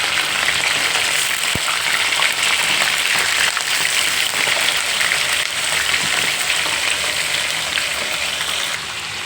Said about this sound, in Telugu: మనం చికెన్ వేయించి పెట్టుకుందాం